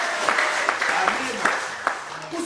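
A church congregation claps for Jesus, a brisk dense burst of applause with voices talking and calling out beneath the clapping.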